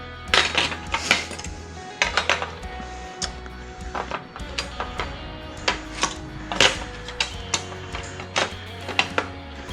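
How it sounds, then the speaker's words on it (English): Metal parts clicking, clinking and scraping as a slide rail is fitted to a BMW E series sunroof, a busy run of small close taps and rattles without talk. "We'll go ahead and replace the slide rail."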